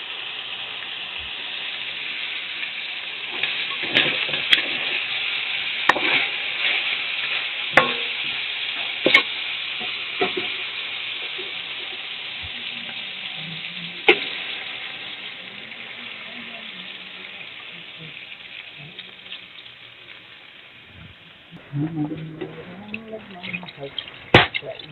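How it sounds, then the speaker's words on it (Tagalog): Chicken sautés in a pan with garlic, onion and ginger for adobo, a constant bright sizzle broken by sharp clinks of a utensil stirring, with someone speaking briefly near the end. "ginisa ko na siya sa bawang, sibuyas at luya para mawala ang kanyang langsa"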